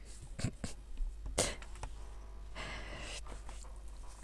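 A single short, breathy sneeze bursts out from someone with a feather allergy. Quieter breaths and small rustles surround it in a calm indoor craft setting.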